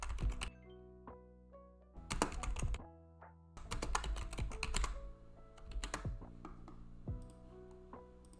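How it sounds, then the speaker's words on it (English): Bursts of rapid typing on a computer keyboard, close and crisp clicks in clusters separated by short pauses, over a quiet background of soft game music with no talk. "I'm in the mood for another one, so I'm typing another one."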